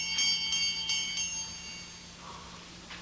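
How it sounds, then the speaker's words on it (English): A small bell rings in a radio drama, a few quick bright dings in the opening second that then fade into a quiet background hum. "I'm trying to see where that bell came from."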